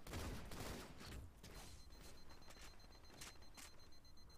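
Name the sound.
shotgun fire in video game Halo MCC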